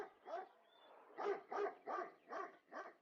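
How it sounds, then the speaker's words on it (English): A dog barks six times in quick succession, a single bark followed by a rhythmic run of five, each sharp and fairly near, with no talk over it. "The dog started barking and jumping up and down happily."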